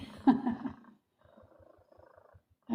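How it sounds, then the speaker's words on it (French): A domestic cat purrs close by in a soft, rhythmic run of low pulses, with brief bits of voice just before and after it. "vous devez entendre le chat ronronner"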